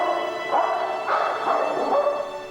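A dog barks and yips several times in quick, close bursts over a steady background, in a Hong Kong police K9 drama.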